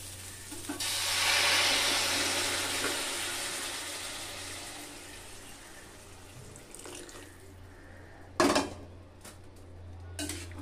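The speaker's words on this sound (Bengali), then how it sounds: "দেখুন এবার আমি এর ভিতর গরম জল দিয়ে দেবো।" Hot water is poured into a pot of soybeans, potatoes and jackfruit seeds, a rushing pour that swells and fades over several seconds, then gives way to a sharp metallic clank and a few softer knocks of cookware.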